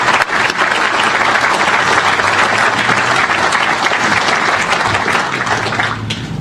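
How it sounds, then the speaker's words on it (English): A groundbreaking ceremony audience claps in sustained, dense applause, loud and close, continuing evenly for several seconds before starting to thin out near the end, with no voices over it. "let's give that group a round of applause"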